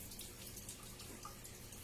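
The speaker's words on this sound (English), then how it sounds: "I'm just draining off my corn." Water pours and trickles into a kitchen sink as cooked corn is drained, a faint, steady rushing wash with no voices.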